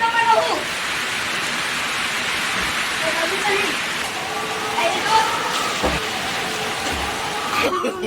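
Steady rain falling outdoors in a village, a continuous hissing wash with faint drips and occasional thumps, while people talk softly underneath.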